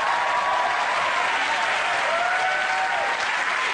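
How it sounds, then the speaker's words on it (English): A television studio audience on a comedy panel quiz show claps steadily and loudly throughout, a dense wash of applause with faint whoops or voices woven in. "Now clap your disappointment away."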